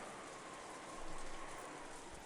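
Soft, steady rainfall on a dark rainy night, a faint even hiss of drops with a slight swell midway, no voices.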